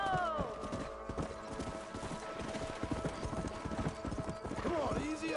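A horse galloping in Red Dead Redemption, steady rapid hoofbeats running throughout at moderate loudness, with speech and a faint whinny-like sound near the end.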